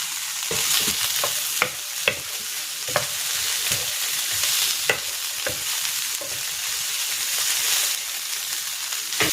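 Chicken breast fries in a pan with garlic while being stirred, a steady close sizzle punctuated by repeated sharp scrapes and clinks of the utensil against the pan.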